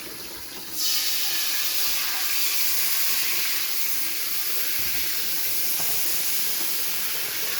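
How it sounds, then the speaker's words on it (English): Water poured into a hot steak pan bursts into a loud, sudden hiss of steam that holds steady and close for several seconds, with no talking. "is fill this sumbitch with some water."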